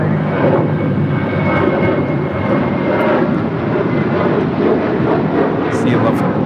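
An airplane on the runway at an airport roars with a loud, steady engine rumble. A voice talks over it throughout.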